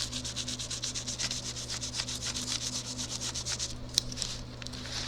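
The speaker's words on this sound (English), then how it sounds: "So I'm kind of scrubbing it in. I want that black into the crevices and cracks." Black paint is scrubbed into the crevices and cracks of a Halloween journal cover, making a continuous close rubbing scratch in quick, even strokes over a steady low background hum, with one brief tap near the end.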